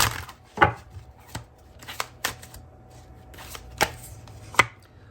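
Valentine Connection tarot cards shuffled by hand in a quiet room, a series of short, crisp riffling bursts at irregular intervals, fairly close and moderately loud.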